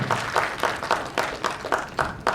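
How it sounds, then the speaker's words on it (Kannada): An audience claps loudly in a steady rhythm, with regular sharp bursts of many hands close together. "ಜೋರಾಗಿ ಚಪ್ಪಾಳೆ ಹೊಡಿ ಏನು ಸಂಕೋಚ ಪಟ್ಕೋಬೇಡಿ"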